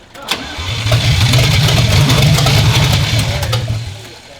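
BMW E34 engine idling low while being prepped for off-road use, a steady deep rumble that runs loud and close for several seconds before trailing off slightly at the end, with no talk over it.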